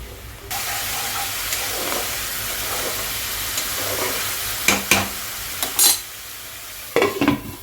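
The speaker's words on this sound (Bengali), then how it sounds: "এবার মশলাটাকে আমি ভালো করে কষিয়ে নিচ্ছি" Spice paste with salt, sugar and chopped tomato being sautéed in a pan for tangra fish tel jhal, a steady sizzle broken by loud clattering spatula scrapes and knocks in short bursts.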